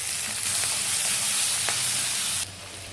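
Potato pieces fry in a pan with turmeric, giving a steady, close sizzle and hiss. A few faint stirring clicks sit on top, and the sizzle drops a little near the end.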